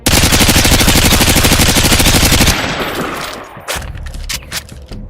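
ACR rifle in Modern Warfare 2 fires a rapid, loud, sustained automatic burst, then stops, leaving scattered echoes and distant shots.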